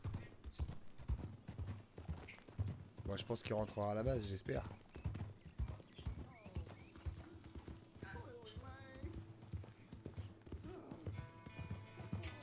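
Horse hooves clip-clop steadily in the Red Dead Redemption video game as a horse follows along, with an occasional whinny, under near-continuous talk from a player.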